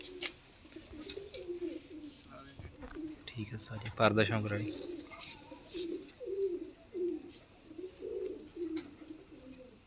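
Sialkoti pigeons coo in rhythmic low, burbling phrases around a breeder's loft while someone talks, with a louder warbling burst in the middle.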